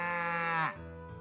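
A baby cow calls from a farm in Story of Seasons: Pioneers of Olive Town, one long clear tonal bleat that bends downward at the end, then a fainter lower tail.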